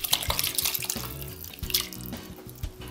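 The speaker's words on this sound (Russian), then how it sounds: "Наливаем яблочный отвар." Apple decoction is poured into a bowl while mixing batter for a lenten walnut cake, a steady splashing trickle of liquid that is close and moderately loud, with no voices.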